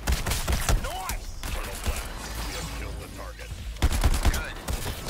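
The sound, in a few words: gunfire in the video game Suicide Squad: Kill the Justice League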